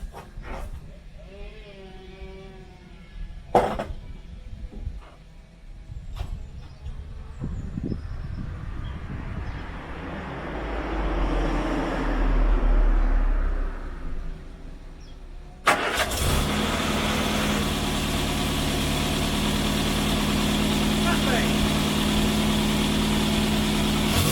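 A Morris Minor 1000 project car with a blowing exhaust cranks over after some quiet handling noises, then catches and settles into a steady, loud idle that runs to the end.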